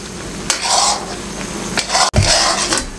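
A thick milk cake mixture with ghee being stirred in a pan, a loud close scraping and rasping sweep with a soft sizzle, in slow continuous strokes broken by one short pause.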